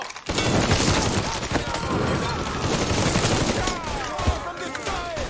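Sustained enemy gunfire in the Mafia 3 video game, dense bursts of shots and rapid fire rattling continuously over a busy combat soundscape.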